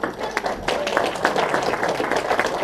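Diners at a banquet give a round of applause, steady, moderately loud clapping from many hands that continues evenly throughout, with no speech over it.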